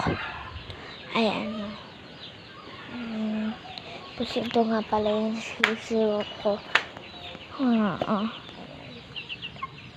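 Hens cluck and chatter in short bursts close by, with a person speaking over them.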